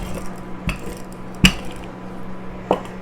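Metal pie pan set down on rolled pastry dough, giving a few sharp clinks and taps, one louder knock in the middle, heard close up in a quiet kitchen.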